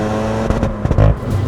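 A Hyundai i20N hot hatch engine rumbles steadily at close range, with a cluster of sharp exhaust pops and bangs breaking through near the end of a brief burst.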